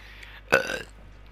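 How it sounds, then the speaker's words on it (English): A single loud, close burp rumbles for about a third of a second, rising abruptly out of quiet room tone and fading into silence. It plays between stretches of lads bantering. "Don't burp in my face."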